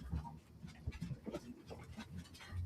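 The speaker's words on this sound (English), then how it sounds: "all the dogs just came running in here like," Several excited dogs scramble into a room indoors, panting and whimpering with scattered yips and paw scuffles, fairly close and continuous through the whole stretch.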